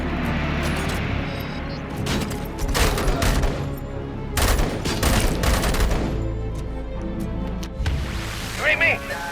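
Gunfire from a shotgun and other weapons in the video game Robocop: Rogue City, heavy blasts and booms repeating in bursts over a dense, loud combat mix with a voice talking throughout.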